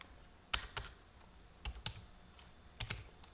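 A computer keyboard clacks in a few short, crisp bursts of keystrokes separated by quiet gaps, close and fairly soft, with no speech.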